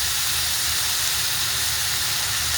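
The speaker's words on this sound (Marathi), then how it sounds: "आता ही मोड आलेली मटकी टाकून घेऊया." Sprouted moth beans tipped into hot oil in a pan, giving a steady, close hiss of sizzling that runs without a break and with no voices over it.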